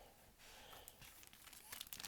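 A plastic bag crinkles up close as a tiny Transformers One Optimus Prime Blokees toy is slipped inside, quiet irregular rustling that grows slightly louder toward the end.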